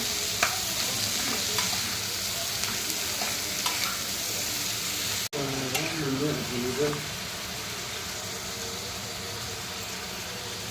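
Onion and mushroom fry in a pan with a continuous close sizzle and scraping stir strokes, a brief clatter midway, then a softer, steadier hiss.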